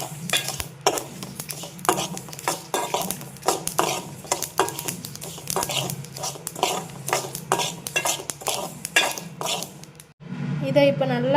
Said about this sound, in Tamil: லோ ஃப்ளேமில் வச்சு வறுத்துக்கோங்க.